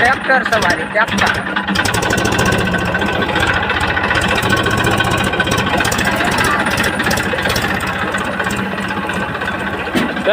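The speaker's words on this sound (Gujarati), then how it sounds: "ટ્રેક્ટર સવારી ટ્રેક્ટર." A tractor engine runs steadily and loudly throughout with a rough, continuous drone, with people talking over it.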